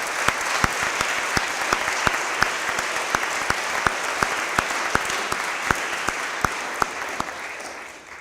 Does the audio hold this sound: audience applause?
yes